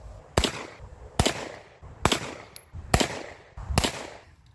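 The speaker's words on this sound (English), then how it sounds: "let's see if we can get a decent, consistent group with these last 5 rounds" Tokarev pistol firing five rounds at a steady pace, each shot a loud sharp crack with a brief ringing tail, evenly spaced about a second apart, with no talking.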